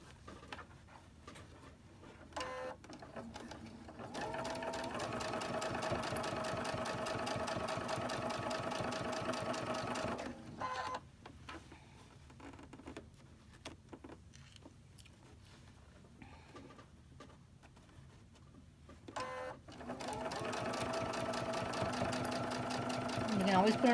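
A sewing machine stitches a red mesh bag, running in long steady whirring bursts separated by brief pauses, close and moderately loud, with no clear talk.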